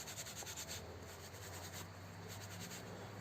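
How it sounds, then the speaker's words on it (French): A brush rubs and scrubs an oiled wheel rim on a hybrid moped, a steady close-up scraping texture with rhythmic strokes early on that settles into a continuous rubbing. "Et ensuite j'utilise une brosse"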